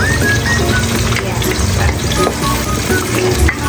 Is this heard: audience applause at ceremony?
no